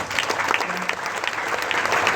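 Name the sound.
applause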